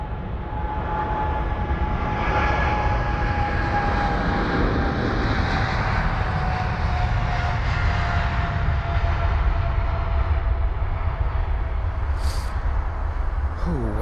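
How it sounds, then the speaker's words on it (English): A Thai jet airliner departs London Heathrow on a freezing, misty day, its engines a loud, steady roar with a slowly falling whine that carries on for the whole stretch. "And so off to Bangkok that goes, that Thai jet."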